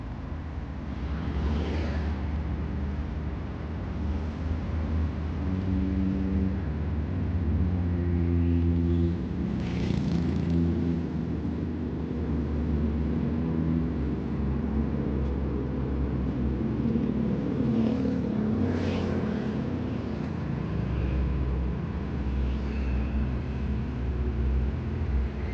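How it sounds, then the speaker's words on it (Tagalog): Steady car traffic fills a busy service road with a continuous low rumble of engines, occasional vehicles passing closer and swelling louder, with no talking. "Busy area na ang service road."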